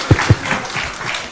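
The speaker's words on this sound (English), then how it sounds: "Another round of applause for the principals" At a political address in Kenya, two sharp claps stand out near the start, followed by a softer, scattered patter of clapping that fades into crowd murmur.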